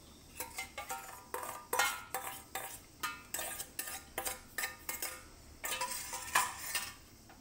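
A mixture being poured and scraped into an oil-brushed steel tin, heard as a quick run of metallic spoon clinks and taps, fairly regular and close, with a quiet room behind them.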